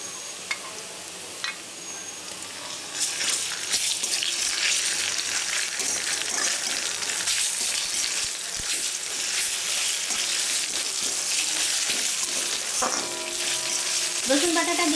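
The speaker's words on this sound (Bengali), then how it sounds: "রসুন বাটাটা দেওয়ার পর একটু ভাজা ভাজা করে ওর গন্ধটা একটু চলে গেলে" Garlic paste fries in a pan over browned onions for chicken kasha, giving a dense, steady sizzle that grows louder after the first few seconds, close up, with a few clinks and stirring scrapes toward the end.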